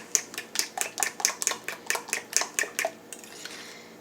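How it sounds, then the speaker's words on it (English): Eggs, butter, cinnamon, nutmeg, vanilla and sugar being mixed for an old-fashioned bread pudding, a utensil clicking against the bowl in a quick, steady rhythm of about a dozen sharp taps before fading out. "I'm just gonna mix all this together. The eggs, it's eggs, butter, cinnamon, nutmeg, vanilla, and sugar."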